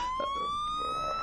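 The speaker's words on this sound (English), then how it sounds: "Shrikant Sahib, the ambulance is here." Ambulance siren arriving at the scene where an injured soldier lies, a steady rising wail heard continuously and fairly close, with no voices over it.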